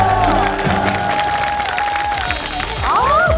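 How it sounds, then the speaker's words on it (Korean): Applause from a studio audience at a televised talent competition, steady clapping filling the space at a fairly loud level, with a sustained tone and some voices mixed in. "다시 한번 박수 부탁드립니다."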